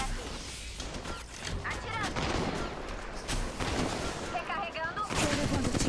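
Rapid gunfire bursts from the mobile battle royale game Apex Legends Mobile crackle continuously at close range, mixed with impacts and game effects while a player talks over the fighting.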